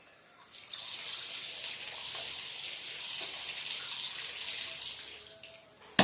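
A kitchen tap runs in a steady close stream while greasy dishes are washed, a continuous rush of water with a brief clatter at the end and no voices.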